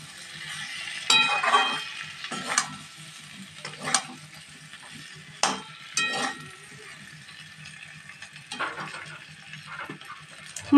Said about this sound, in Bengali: দিয়ে ভালোভাবে সমস্ত মশলাগুলোর সাথে খুব সুন্দর করে মিশিয়ে নেব।